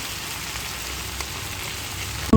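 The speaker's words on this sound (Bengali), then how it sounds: "মাছ ভাজা হয়ে আসছে" Pieces of hilsa fish fry in hot oil, giving a steady, loud, even sizzle that runs unbroken and alone, with a brief clatter at the very end.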